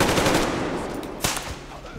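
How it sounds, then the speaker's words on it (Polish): Gunfire in the video game Metro Exodus: a loud, dense burst of automatic shots up close, followed by one sharp single report as the noise fades. "Ładny strzał."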